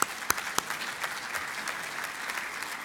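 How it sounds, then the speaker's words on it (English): Applause fills the hall at a master's graduation hooding ceremony at a university, a dense, even clatter of many hands, with a few sharper individual claps near the start, sustained to the end. "So I think we should applaud that."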